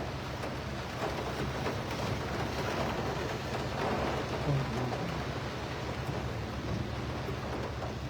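Light rain falls steadily over a residential area of Morbi city, a soft, even wash of patter with some wind noise, continuous and without talk.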